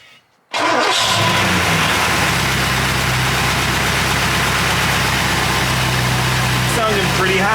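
A Porsche 928 engine, freshly serviced with an oil change, cranks and fires after a brief quiet moment, then settles into a loud, steady idle close by with no tapping.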